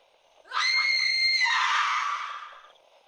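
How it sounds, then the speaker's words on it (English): A woman's scream, loud and close, rising sharply and holding for about two seconds before trailing off, set in a creepy late-night horror scene. "Before anyone could answer, Lauren screamed."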